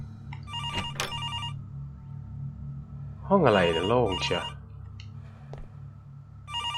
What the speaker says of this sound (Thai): ขอรับโทรศัพท์ก่อนนะครับ